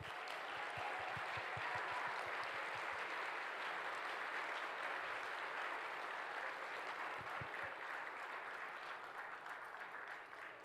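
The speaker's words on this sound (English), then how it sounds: "Please give a round of applause for them." Audience applause for the Pava Nubak Dancers at a Native arts festival, a dense, steady wash of clapping from a sizeable crowd that holds for the whole stretch, with a few louder close claps standing out.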